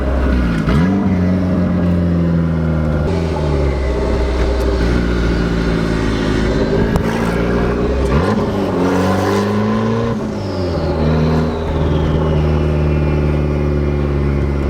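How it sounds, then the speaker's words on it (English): Turbocharged Honda Civic engine revving hard and loud and close, with repeated rising and falling sweeps and a high turbo whine and whistle riding over the deep exhaust roar. "do you hear that turbo? It's so great."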